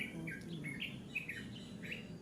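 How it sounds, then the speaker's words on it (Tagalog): Small tirit birds perched in a low, wide-spreading chico tree give quick, high chirps in short repeated bursts, faint and somewhat distant against a quiet evening background. "Kaya nandyan yung mga ibon tirit."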